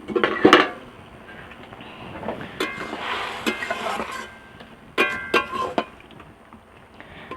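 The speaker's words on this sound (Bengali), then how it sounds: "এখন আমি ঢাকাটা খুলে দেখছি আলু আর পটল সেদ্ধ হয়ে গেছে কিনা" A metal lid is lifted off a pot of simmering potatoes and pointed gourd being cooked for a fish curry, giving a few sharp clinks and scrapes of metal against metal over a quiet background.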